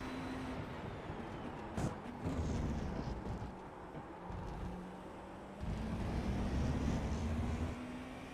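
A GTP prototype race car in the iRacing sim runs flat out along the Road America straight toward a left-hander, its engine a steady, fairly quiet drone with a brief louder swell partway through.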